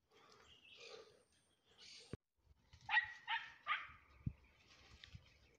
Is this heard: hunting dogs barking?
yes